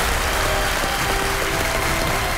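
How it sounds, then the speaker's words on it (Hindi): A studio audience on the game show Kaun Banega Crorepati applauds Team Tarini, the first Asian team to sail around the world. The applause is dense, steady and loud, and it continues without a break. "तालियां बज जाएं उनके लिए।"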